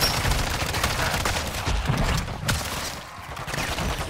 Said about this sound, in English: let's get back to our pack-a-punch assault rifle